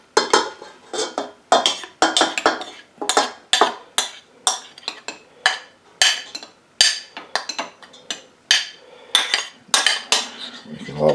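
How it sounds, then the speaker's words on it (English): Utensils clack against a bowl while sourdough culture is mixed into unbleached flour, a quick run of close, bright knocks and scrapes in an irregular stirring rhythm. "Making a lot of clacking noises here, trying to get it all in there"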